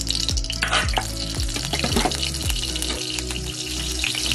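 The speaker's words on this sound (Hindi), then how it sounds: "देखिए तेल गरम हो गया है, अब इसमें हम डालेंगे मिर्ची" Chilies hit hot oil in a kadhai, giving a close, steady sizzle and crackle with a few sharp clinks and stirring knocks throughout.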